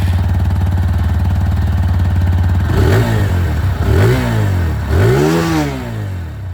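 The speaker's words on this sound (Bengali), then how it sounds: "এটা ছিল অ্যাপাচে 2Bর আওয়াজ।" A TVS Apache 160 2V motorcycle exhausting close by, first a steady thumping idle, then three sharp throttle blips that rev up and fall back, loud and alone.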